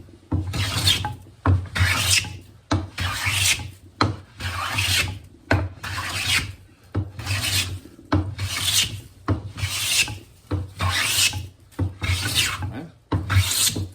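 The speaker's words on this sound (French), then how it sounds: "t'aplanis les sommets des traces du moulin à scie" Steady rhythmic rasping strokes of a hand plane flattening rough-sawn wood boards, about a dozen passes, each a loud scraping swish followed by a short pause.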